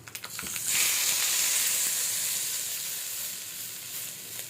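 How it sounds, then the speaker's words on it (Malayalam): A tempering of mustard seeds and asafoetida powder sizzles in hot oil for a brinjal thokku. A few quick crackles open, then a bright steady hiss holds and slowly fades. "കടുക് ഒന്ന് ചൂടായതിനു ശേഷം കുറച്ച് കായപ്പൊടിയും കൂടി ഇട്ട് ഇതിലേക്ക് ഇളക്കി."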